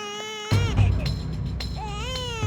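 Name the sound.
small baby crying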